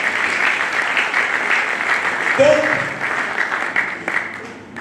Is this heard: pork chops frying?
no